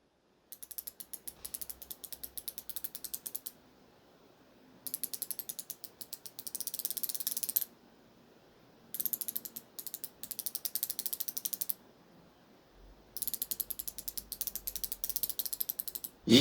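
Wera Zyklop quarter-inch ratchet clicking in four bursts of rapid, crisp, bright ratcheting, loud and close, with short quiet gaps between; no talking.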